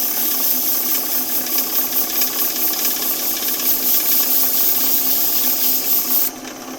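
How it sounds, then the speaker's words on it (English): Abrasive presses against the spinning edge of a wooden piece on a woodturning lathe, giving a steady hissing, rasping drone that cuts off abruptly near the end. "I will want to chamfer this edge a bit, so I'll just hit it with some abrasive"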